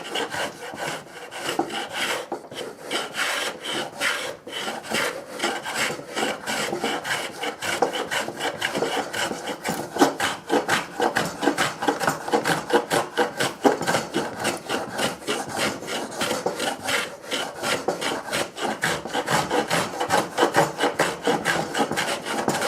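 A wooden coffin plane with a freshly sharpened blade shaves a crowned wood plank, giving a steady run of close, dense rasping strokes that repeat without pause and with no talk.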